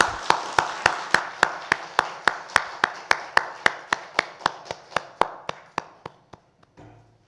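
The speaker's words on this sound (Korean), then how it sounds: "하나님께 영광의 박수 올려드립니다." A church congregation claps together in steady unison during a Sunday worship service, about two dozen sharp, evenly spaced claps that slow slightly and fade toward the end.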